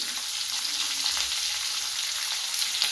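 Green chillies, chopped garlic and onion fry in a pan for a keere greens stir-fry, giving a steady, close hiss of sizzling oil that holds evenly throughout with no voices.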